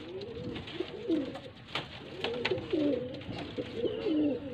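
A breeding pair of Sialkoti pigeons coos close by, with soft rolling repeated coos and a few faint chirps from other birds in the background.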